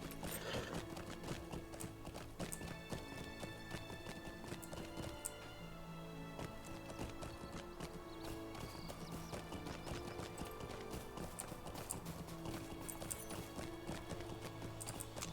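Steady clip-clop of horse hooves at a riding pace in the game Lord of the Rings Online, running continuously under layered game music and ambient sounds.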